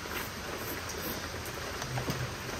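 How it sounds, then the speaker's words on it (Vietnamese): Steady rain falls outdoors as an even, continuous hiss of drops on surfaces, moderately loud and unbroken, with no voices. "Úi, đang trời mưa luôn nha các bạn."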